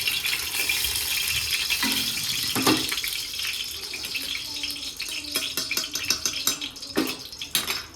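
Dishes, pots and cutlery clatter at a kitchen sink with running water, with a spoon dropping among the dishes; sharp metallic clinks come in several bursts over a steady wash of water.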